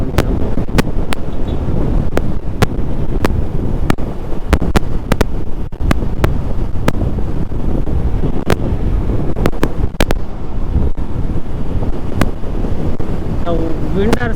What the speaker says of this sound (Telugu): చాలా బాగా వస్తుంది విండ్